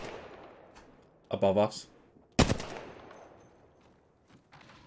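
Apex Legends gunfire rings out as a rapid burst of shots and then one loud, sharp blast, with a player talking briefly between them.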